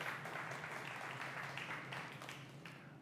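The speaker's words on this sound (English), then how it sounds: "So another round of applause for Ansgar." Audience applause for Ansgar at Paradigm's Frontiers conference, a quiet, steady patter of many hands clapping at a distance for the full three seconds, with no talking over it.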